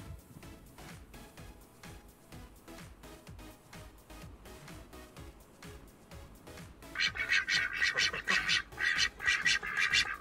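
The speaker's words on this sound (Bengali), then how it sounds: "হংস ভাসে নদীর জলে" Ducks on river water quacking in repeated bursts over a rhythmic, beat-driven backing, growing louder and busier toward the end.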